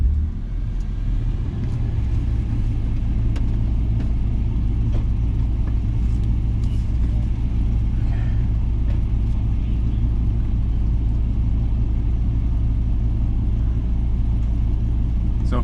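A built Audi B8 A4 with a turbo engine on a track day gives a steady, heavy engine and road rumble from inside the car, continuous throughout with a few faint sharp ticks on top.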